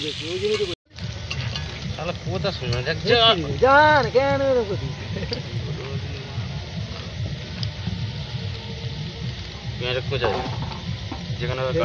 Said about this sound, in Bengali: এইখানে রান্না হচ্ছে